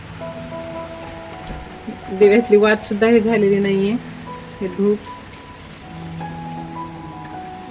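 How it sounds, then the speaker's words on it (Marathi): Steady rain patters in the background, a continuous soft hiss beneath a person talking nearby. "कंटिन्यू पाऊस आहे, कंटिन्यू"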